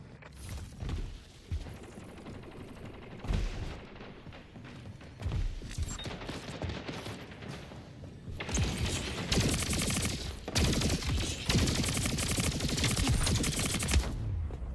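Shotgun blasts in the Splitgate 2 arena shooter, a match close to the scoring limit, come as loud, scattered booms among a busy mix of weapon fire and mechanical clatter. The firing grows denser and more sustained in the second half.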